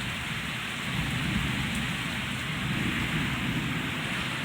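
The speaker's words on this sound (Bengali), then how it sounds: "বৃষ্টির আওয়াজ, কি জোরে বৃষ্টি হচ্ছে বাইরে।" Heavy rain pours down outside in a dark evening, a dense, unbroken roar of drops drumming on surfaces, steady and loud throughout with no voices.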